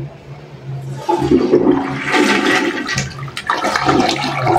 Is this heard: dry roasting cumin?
no